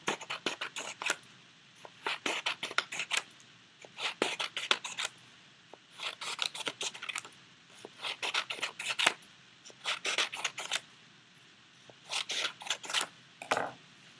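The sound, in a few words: scissors cutting yellow paper strips for a collage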